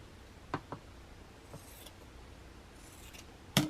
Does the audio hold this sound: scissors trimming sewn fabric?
yes